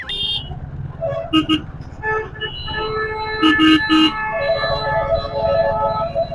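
Busy city traffic in Chennai heard from a moving motorcycle, with several car horns honking in short bursts over a steady rumble of engines and road noise.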